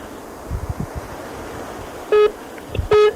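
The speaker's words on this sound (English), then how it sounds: "Something's beeping." Two short, loud electronic beeps sound about a second apart, each a steady tone, after some faint low rumbling.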